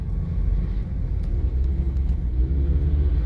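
Steady low rumble of heavy road traffic on EDSA in Metro Manila, a dense, continuous drone of car engines moving slowly in a jam, heard close with no talking.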